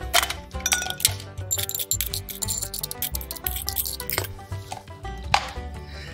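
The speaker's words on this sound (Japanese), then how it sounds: "そしたらここに氷をしっかりと入れて液体を冷やしていきます" Ice cubes dropped into a glass of whiskey for an iced Irish coffee, a close run of sharp clinks and clattering knocks against glass, bunched irregularly over several seconds with no talking.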